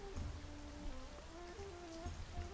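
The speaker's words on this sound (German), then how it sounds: "obwohl es regnet" Steady rain in the fantasy strategy game For The King, a constant patter spread evenly under a soft tonal music line, with no talk.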